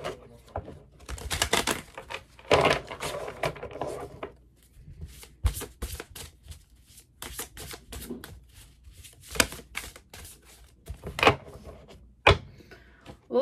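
A tarot deck is shuffled close up in quick, crisp bursts of riffling and slapping cards, with short pauses between bursts and the sound fairly quiet overall.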